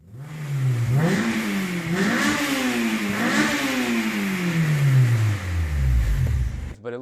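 A Honda S2000 AP1 engine revs hard and repeatedly, climbing and falling several times before winding down, loud and close with no talking.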